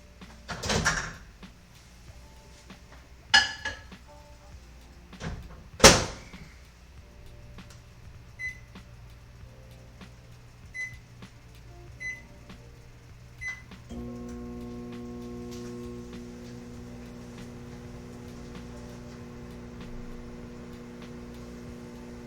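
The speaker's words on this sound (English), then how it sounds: "they want me to microwave this for 30 seconds" A microwave oven heats a ramen ingredient: its door clunks open and shut with a few sharp knocks and clicks, then the oven runs with a steady low electrical hum that continues to the end.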